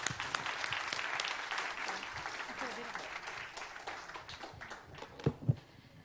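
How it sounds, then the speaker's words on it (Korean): Audience applause at a Korean startup venture forum as a five-minute pitch ends, a broadband patter of clapping filling the room at a steady level, with a couple of sharper claps standing out near the end as it tapers off. "박수 부탁드릴게요."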